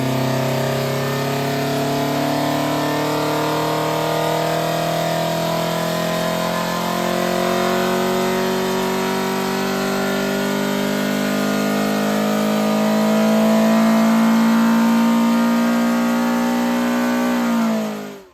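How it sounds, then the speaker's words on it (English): A Ford 1900 Crossflow engine, fitted with an electronic distributor, is held at full throttle with a loud, sustained high rev that climbs slightly before cutting off abruptly at the end. "the effect it had on our 1900 Crossflow at full throttle"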